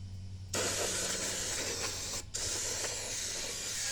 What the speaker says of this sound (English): Do a little bit more spraying on the outside.